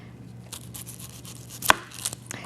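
A knife chops vegetables on a cutting board, a few soft cuts and one sharp, louder strike, close by with no talking.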